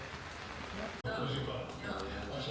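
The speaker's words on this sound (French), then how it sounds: "Là, il pleut quand même des cordes" Heavy rain pours down at an ITF tennis tournament in Slobozia, Romania, a dense, steady hiss of rainfall that fills the whole clip, with a brief dropout near the one-second mark.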